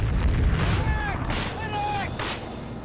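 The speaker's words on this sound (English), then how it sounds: "The explosions are real, the bullets are real, and so is the potential for serious injury." Gunfire and explosions from a live-fire military training drill, low booming blasts and shots rolling together in the distance while a voice speaks over them.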